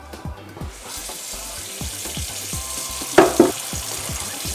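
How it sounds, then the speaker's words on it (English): Hot cooking water is poured off boiled breadfruit, a continuous splashing gush with a rushing, steamy hiss and a couple of sharper clatters near the end, close by with no one talking. "Now our breadfruit is ready. It's cooked. Let's pour out the water."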